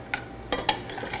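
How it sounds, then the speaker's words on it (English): A spoon stirs in a bowl, giving a few short scraping and clinking strokes, close and fairly quiet. "Let me grab a spoon. And we're gonna start to stir."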